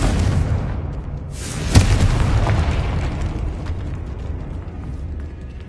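A Confringo spell fires in Hogwarts Legacy, bursting as a sharp blast with a thudding low boom, then rumbling and crackling as it fades over several seconds with no one speaking.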